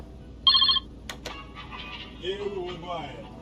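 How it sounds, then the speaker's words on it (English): A phone rings once in the game Car Mechanic Simulator 2021, a short bright electronic trill. Quieter background game sounds follow, and a voice speaks over them. "Oh, we got a phone call."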